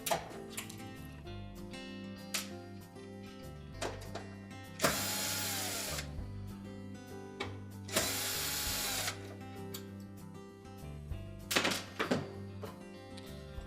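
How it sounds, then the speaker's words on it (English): A power driver backs out two Phillips screws holding a Whirlpool range's oven temperature sensor to the back panel: two loud whirring bursts of about a second each, separated by quiet pauses, over steady background music. "then remove the 2 Phillips screws that secure it to the back"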